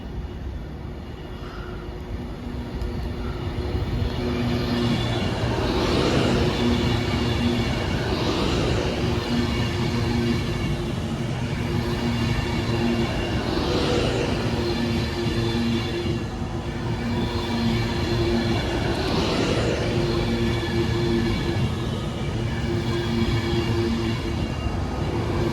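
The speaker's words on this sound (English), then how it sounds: "over 45 minutes late for Avanti West Coast is going to be Progress Pride from London Euston to Manchester Piccadilly" An Avanti West Coast train passes through Northampton station, a steady loud rumble and rail hum with rhythmic wheel clatter over joints repeating every couple of seconds.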